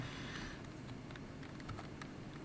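Rapid, continuous clicking of keys on a computer keyboard, a close and steady patter of taps with no talking.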